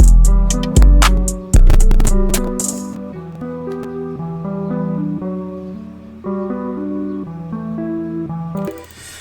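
Percussive hits and rattling give way to sustained, slowed-down tonal guitar notes with automated halftime effect that shift in pitch, loud and close.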